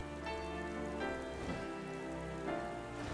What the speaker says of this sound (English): Kind of fitting that we're out here in the rain.